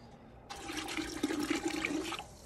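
Water pours into a large pot holding olive oil and vinegar, a sudden steady gushing stream running for about two seconds, close and fairly quiet.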